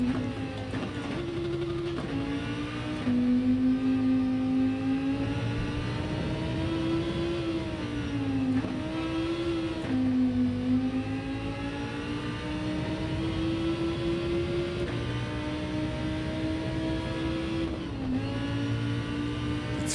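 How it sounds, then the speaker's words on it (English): Race car engine in a racing video game at the Red Bull Ring after rain, droning steadily with repeated gear changes, pitch climbing and dropping in a regular rhythm as the lap goes on. "It's really important that I can hear the engine at the right time."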